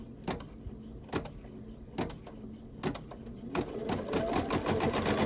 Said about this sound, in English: now there's going to be another line we're going to stitch across